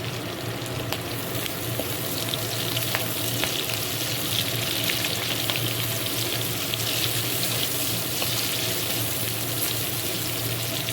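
Chopped onions with split green chillies and spices fry loudly in oil, a continuous close sizzle with occasional stirring clicks and scrapes throughout.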